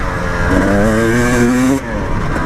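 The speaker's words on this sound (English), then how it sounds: "And you can even hear it in the exhaust when that power valve opens up." A KTM 300 two-stroke dirt bike revs hard and close, its exhaust note rising in pitch as the power valve opens, then dropping abruptly.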